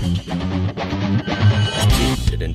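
Heavy distorted metal guitar riff from the Riffage Metal sample library by Impact Soundworks, a dense chugging palm-muted pattern with sustained high overtones, loud and continuous, playing alone without talk.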